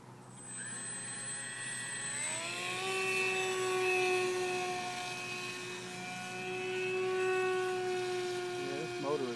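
Skywalker Sirius RC plane's electric motor whines past in a flyby, a steady high-pitched tone that rises in pitch as it approaches and then holds, loud and close, while people talk briefly in the background.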